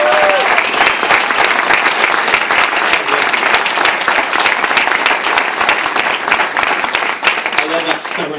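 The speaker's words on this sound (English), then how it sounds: "I think he deserves a massive round of applause." Sustained loud audience applause at an NMSS annual meeting, steady dense clapping throughout with voices mixed in near the end.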